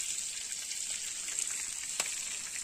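Chicken frying in oil on a roof tile, a steady bright hiss and sizzle that runs throughout, with small pops and one sharper crackle near the end.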